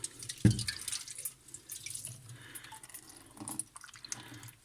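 Hot water poured into a refrigerator freezer drain, a soft trickle and splashing with a sharper dribble early on, fairly faint and close.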